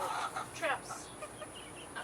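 Backyard chickens clucking in a garden chicken yard, several short bursts of clucks early on with softer calls after, close by over a steady background hiss.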